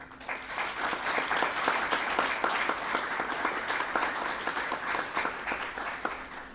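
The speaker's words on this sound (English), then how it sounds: "please give a round of applause to the mayor of Auburn, Michael D. Quill" Steady applause from an outdoor ceremony crowd greeting the mayor of Auburn, Michael D. Quill, at a Harriet Tubman bicentennial birthday event: dense overlapping hand claps, fairly close and moderately loud, sustained throughout with no talk.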